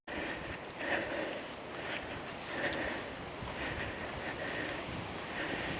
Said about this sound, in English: it's certainly gone windy